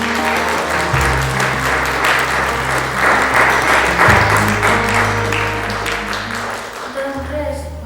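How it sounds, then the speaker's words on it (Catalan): Loud, sustained applause from school classes at a poetry contest (Jocs Florals), dense clapping throughout with background music tones and some voices mixed in. "des de les vostres classes es feu un fort i sentit aplaudiment"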